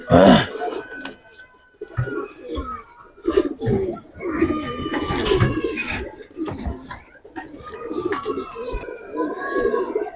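Giribaz pigeons coo in low, throaty bursts, close by, while people talk over them and handle the birds.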